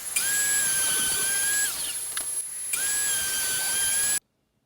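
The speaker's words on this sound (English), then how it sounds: "used the table saw to cut it into strips" A table saw cuts walnut plywood into strips, a high steady whine with a loud cutting hiss in two long passes separated by a brief drop, then sudden silence.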